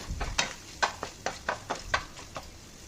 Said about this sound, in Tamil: இதெல்லாம் நல்லா வதங்கட்டும்